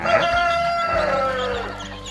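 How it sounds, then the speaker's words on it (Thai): A White Leghorn rooster lets out a single loud, drawn-out crow close by, trailing off into softer clucking at the end. "ไก่ไข่สายพันธุ์แท้นะครับ เล็กฮอนอิตาลีนะครับ"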